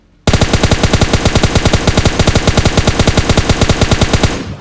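Sustained automatic gunfire in PUBG Mobile Lite, a loud, rapid, evenly spaced stream of shots lasting about four seconds before stopping abruptly.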